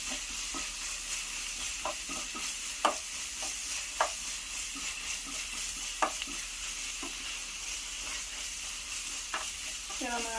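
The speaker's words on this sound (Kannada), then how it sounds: "ಮಿಕ್ಸ್ ಮಾಡಿ ಇದರ 1 ಮಿನಿಟ್ ಈ ಥರ ಫ್ರೈ ಮಾಡಿ" Ginger garlic paste frying and being stirred in a pan, for egg fried rice, makes a steady sizzle punctuated by repeated scraping and clinking strokes of a spoon.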